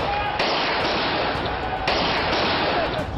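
Sharp bursts of gunfire crackle through a dense, loud wall of crowd noise and clamor during night riot clashes between residents and police, with shots going off in rapid clusters.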